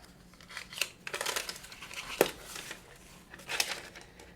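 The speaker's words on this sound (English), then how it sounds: "there's going to be some kind of paper wrapping around the case" Paper wrapping is torn and crinkled off an AirPods Max case, with irregular close rustles and a few sharp rips spread over several seconds.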